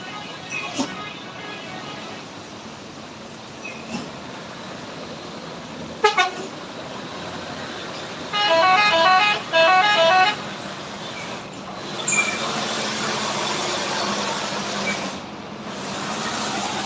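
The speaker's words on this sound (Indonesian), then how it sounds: "Banyak truk yang melintas di sini." Trucks on a busy mountain road pass beneath a constant roadside traffic rumble, with short horn toots near the start and two longer, louder horn blasts in the middle. A voice is heard briefly.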